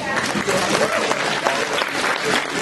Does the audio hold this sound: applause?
yes